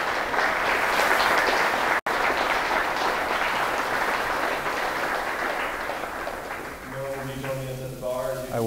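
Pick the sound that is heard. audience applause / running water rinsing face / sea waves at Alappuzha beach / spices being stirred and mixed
audience applause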